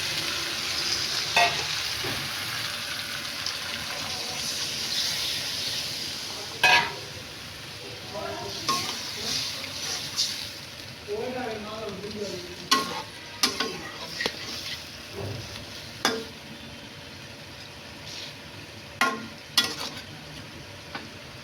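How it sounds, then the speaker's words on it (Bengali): Snakehead fish frying in a pan of spiced curry with eggplant and green tomato, a steady sizzle broken by intermittent stirring clinks and scrapes against the pan, close and moderately loud. "মাছটা আমি ভেজে নিচ্ছি, এখন আমি দিয়ে দিলাম।"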